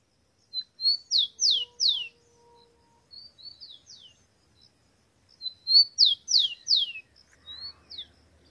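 A wild rufous-collared sparrow sings near a caged one, clear high whistled phrases of several rising-falling notes delivered in two bursts with a softer phrase between, close and alone in a quiet setting.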